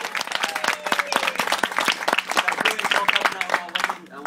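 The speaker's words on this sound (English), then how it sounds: "Round of applause for Katie, please," A wedding crowd gives the bride a round of applause, dense, lively clapping from many hands filling the room for several seconds, with some voices mixed in.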